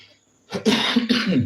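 A person coughs up close in a short burst of two or three harsh, throaty coughs after a moment of quiet.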